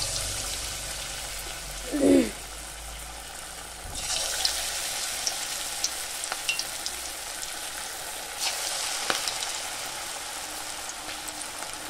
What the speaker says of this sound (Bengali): এবার আমি গরম গরম তেলে ভেজে নেব এটা।